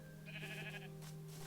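A sheep in Minecraft bleats once, a short wavering blocky-animal call over a steady low game hum and faint background tones.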